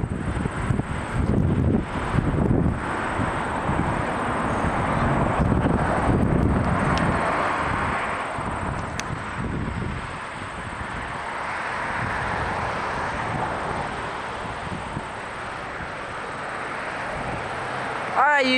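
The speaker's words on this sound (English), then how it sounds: "Hainan Airlines, Hainan 7975 from Beijing to Toronto, Hainan Airlines A340-600." A Hainan Airlines Airbus A340-600 on approach to Toronto Pearson rumbles as a broad, steady engine roar with heavy wind buffeting the microphone, building and holding at moderate distance.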